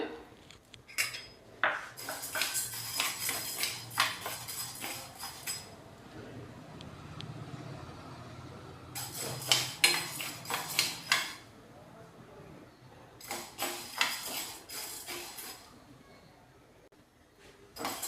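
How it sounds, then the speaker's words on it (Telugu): Toor dal is dry-roasting in a pan for sambar, heard as bursts of scraping and rattling stirring clatter separated by quieter pauses. "కందిపప్పు దోరగా వేయించుకుందాం."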